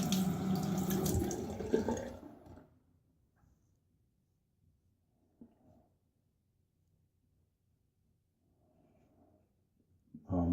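Tap water runs loudly over a razor for about two seconds, rinsing off lather, then cuts off, leaving near silence with a couple of faint knocks before the water briefly starts again at the end.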